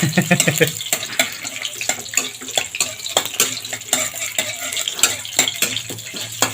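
Garlic tossed into a pan of spicy stir-fried eel, with rapid clattering of a spatula against the wok and sizzling frying, loud and close with a busy scraping rhythm.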